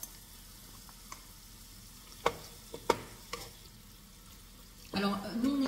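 Leftover paella rice drops into a hot pan and starts to sizzle, a brief burst of frying at the end after a few quiet clinks and taps of kitchen utensils.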